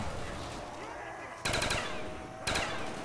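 MP40 submachine gun fire in a Call of Duty zombies game, two bursts of rapid automatic shots cutting in over a busy game soundscape.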